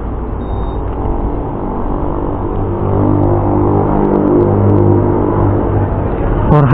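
A Honda ADV 160 scooter engine with a full tank drones loudly and steadily close by, its pitch swelling slightly partway through.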